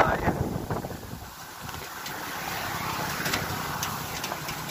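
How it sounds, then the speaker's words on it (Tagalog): Strong wind buffets the microphone on an open roadside by bamboo, a steady roaring rush that swells and eases throughout, with faint sounds in the background. "ang lakas ng hangin dito"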